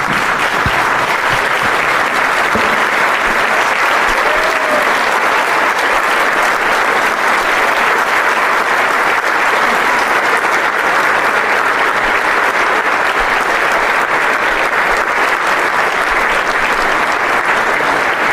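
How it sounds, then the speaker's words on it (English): An audience at an awards dinner applauds White House chief of staff Susie Wiles. The clapping is loud and dense and holds steady and unbroken for a long stretch, with no speech on top of it. "I'd like you all to join me in one more round of applause for Susie Wiles"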